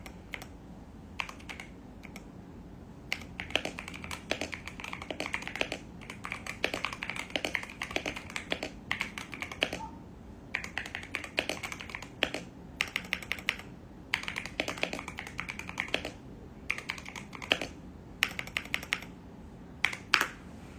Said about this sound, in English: I'm looking at this keyboard